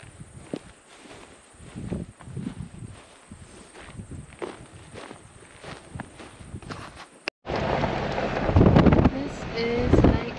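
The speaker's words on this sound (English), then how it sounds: "This is Lake Clearwater. It's a little bit of wind." Wind blows at Lake Clearwater, New Zealand. Light gusts and soft footsteps are heard at first, then a strong, loud rush of wind buffets the microphone for the last few seconds.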